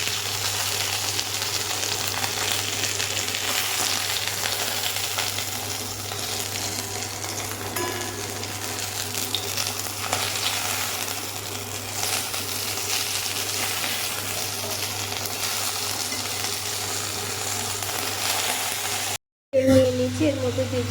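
Pieces of catla fish fry steadily in hot oil, a continuous close sizzle with faint stirring that holds for about twenty seconds before a brief cut and a few louder clatters.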